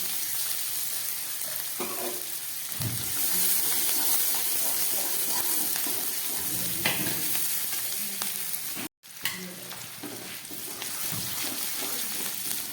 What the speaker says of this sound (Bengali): আদা রসুনটা কিছুটা ভাজা হয়েছে